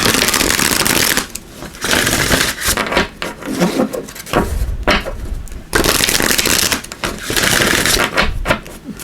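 Tarot cards being shuffled in several loud riffling bursts, each lasting a second or two with short pauses between.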